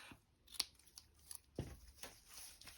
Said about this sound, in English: I'm going to just trim a length of this off